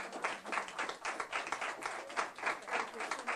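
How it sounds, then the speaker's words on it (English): Kids at a school mentoring-program kickoff in Joliet, Illinois, give a round of applause: steady, dense clapping from a roomful of young hands, fairly close and lively, pulsing slightly in intensity throughout. "Kids, can I hear a round of applause for AT&T"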